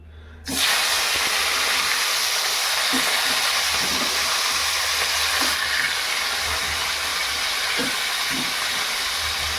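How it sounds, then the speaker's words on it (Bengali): Fish heads dropped into hot oil in a pan set off a loud, steady, close sizzle that begins abruptly and holds constant, with small pops and spatters throughout. "তেল হয়ে গেছে, এই যে মাছের মাথাগুলো দিয়ে দেবো।"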